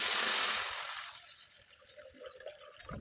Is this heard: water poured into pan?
yes